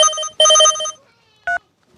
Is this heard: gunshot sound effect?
no